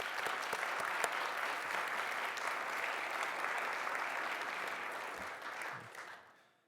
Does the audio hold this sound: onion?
no